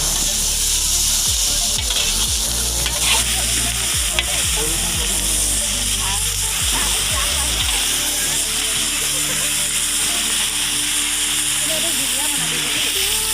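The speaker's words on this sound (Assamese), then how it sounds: "কাটি ৰখা বিলাহী আৰু কেঁচা জলকীয়া দি ভাজি অকণমান দেৰি হ'বলৈ দিছে" Chicken curry masala with chopped tomato and green chilli sizzles steadily in mustard oil with spices at an outdoor picnic. Scraping stirs come through early on, and voices talk faintly underneath.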